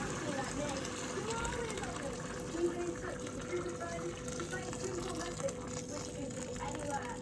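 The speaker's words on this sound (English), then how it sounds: "So you add your hot water" Hot water pours steadily into rice in a cooking pot, a continuous close splashing gush with a voice talking over it throughout.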